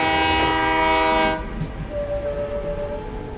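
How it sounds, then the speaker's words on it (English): A train horn or whistle blows loudly with a stack of steady harmonic tones for about a second and a half, then a passing train rumbles on with a fainter, thinner whistle tone lingering above the noise. "the sound of the train whistle is like a lullaby at night."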